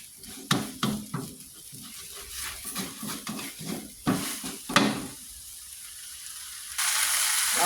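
Pork tendon dropped into a hot pan sizzles in bursts, with clattering and stirring from a nearby home kitchen and a steady hiss building toward the end.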